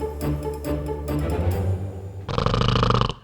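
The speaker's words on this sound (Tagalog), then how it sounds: "Naku! Ang lakas ng hilik ni Goldilocks!" A voice performs loud, exaggerated snoring for Goldilocks in a told fairy tale: a few deep rumbling snore breaths followed by a harsh, rattling, noisy exhale.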